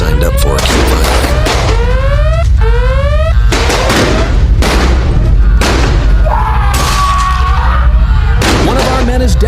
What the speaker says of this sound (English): Open fire! We can't hold them off.